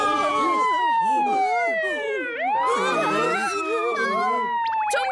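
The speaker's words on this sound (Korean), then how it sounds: "사이렌 소리가 안 들리나 봐." A cartoon rescue vehicle's siren wails continuously with sweeping up-and-down tones, loud and close, mixed with other siren layers and a brief chime near the end.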